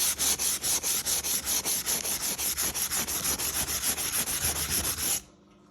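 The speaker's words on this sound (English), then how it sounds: "I just use a little bit of light sandpaper." Light sandpaper is rubbed back and forth over rusty G scale model train track in a fast, steady rhythm of close, scratchy strokes that stop abruptly near the end, with no talking.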